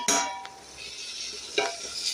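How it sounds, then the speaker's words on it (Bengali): Potatoes fry in a pan with a steady hiss, broken by a few sharp scrapes and clinks of a utensil against the pan. "আলুটা ভাজা বসিয়েছি"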